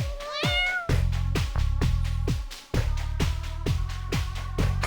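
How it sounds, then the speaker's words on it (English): A cat meows repeatedly up close, a drawn-out rising cry followed by a steady series of short, loud meows against a background of rhythmic thumping music. "Don't meow at me"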